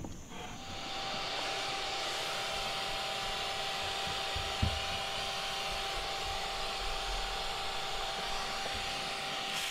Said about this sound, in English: I kind of pull them apart and vacuum up the adults that are in between the comb